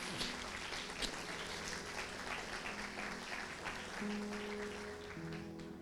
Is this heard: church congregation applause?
yes